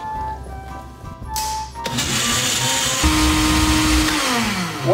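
A blender whirs to life and runs loudly, its motor pitch shifting as it churns a thick pizza dough mixture, with clattering before it starts.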